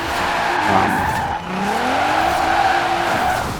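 Loud, sustained tire squeal from a 2018 Nissan Sentra Nismo with an AWD drift tune sliding sideways in Forza Horizon 4, rising and bending in pitch with a roaring engine underneath.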